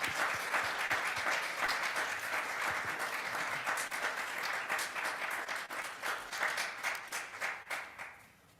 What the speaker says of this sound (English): let's give a big hand of applause for our three distinguished panelists